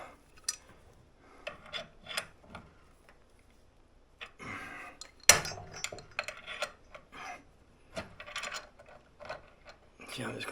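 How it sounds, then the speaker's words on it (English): A wrench turning and levering on a front brake caliper of a 1933 rat rod, giving scattered metallic ratchet clicks, scrapes and rubbing clatter in short bursts, close and moderately loud, with pauses between efforts. "I use this wrench and put it on here like this to get a little pressure on that."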